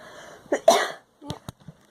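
A few short, sharp coughs in quick succession, close by, followed by a couple of softer throat sounds.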